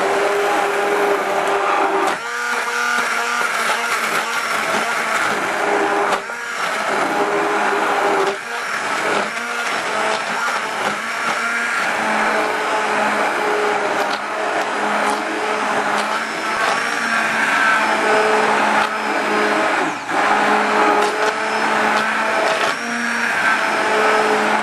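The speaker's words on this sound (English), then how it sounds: "you can puree in the pan with a hand blender, and that's the way I'm going to do it" A hand blender whirring loudly as it purees butter bean soup directly in the saucepan, a continuous high-pitched motor drone with small dips and surges as the blade moves, close and alone.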